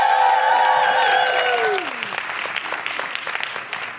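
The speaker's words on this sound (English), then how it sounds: "Just give her a big round of applause." Audience applause at a live London comedy podcast recording, loud dense clapping that starts under a sung or tonal voice fading out, then steady crowd applause continuing to the end.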